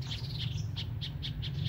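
Skylark singing in a repeated series of short bright chirps at a quick, regular pace over a steady low hum, moderately loud and close, with no talk.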